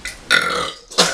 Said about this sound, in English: Give us the biggest burp, right?